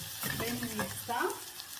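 Pilau fries in a pot while being stirred, a brief close sizzle with soft scraping and clinking of the spoon.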